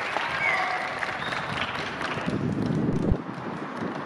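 Applause at the season opening of Sultangazi Spor Kulübü, a steady wash of clapping from a gathered crowd mixed with breezy microphone noise, moderately loud throughout.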